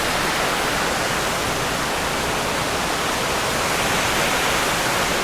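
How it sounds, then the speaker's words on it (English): Forth Falls near Wilmot in Tasmania slides and then plunges into Lake Barrington, a steady, dense roar of falling water that fills the whole scene at close range with no voices. "it starts off with this slide of water down here before it plunges into Lake Barrington."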